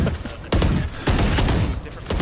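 Gunfire in the game Valorant: several loud, close bursts of shots spaced about half a second apart, with a voice faintly present.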